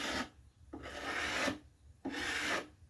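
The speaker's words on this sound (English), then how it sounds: "Trying to scrape that gray stuff out of it." A scraper rasping old gray finish off an antique wooden table, two long, loud, gritty strokes close to the microphone with short pauses between them.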